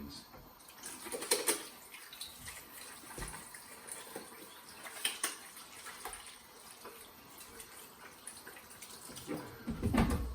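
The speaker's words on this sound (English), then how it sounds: "And wash my hands." Hands being washed under a running tap at a kitchen sink while preparing sweet and sour chicken, with the water's splashing rising and falling in uneven bursts at moderate volume.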